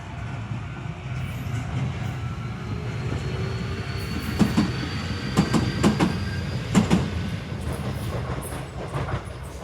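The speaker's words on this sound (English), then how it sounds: "Here comes the train right now." An anime-decorated train on the Shizuoka line pulls into a station, a steady rolling rumble building with several sharp clattering wheel-over-joint clicks and faint squeals as it slows, heard from the platform.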